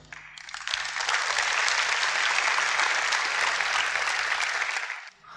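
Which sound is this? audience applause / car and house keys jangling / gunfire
audience applause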